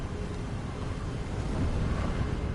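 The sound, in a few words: wind blowing in the video game Hogwarts Legacy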